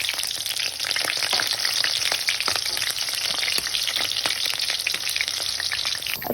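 Leftover eggplant frying in hot oil in a pan gives a dense, even crackle and spatter that carries on without a break, like light rain on a surface.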